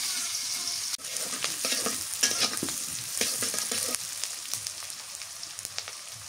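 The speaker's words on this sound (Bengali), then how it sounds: "এই তেলের মধ্যে আমি পেঁয়াজ কুচি দিয়ে দিই, কাঁচামরিচ," Chopped onion and green chilies frying in hot oil, a steady close sizzle with crackles and scraping stir sounds throughout, with no voices.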